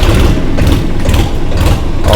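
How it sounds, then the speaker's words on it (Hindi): A Swaraj 963 FE tractor engine runs at a steady, loud low idle, a continuous deep rumble with a faint rhythmic mechanical pulse and no talk over it. "मैं अब आपको ट्रैक्टर की आवाज़ सुनवा देता हूँ, ट्रैक्टर को स्टार्ट करके दिखाता हूँ"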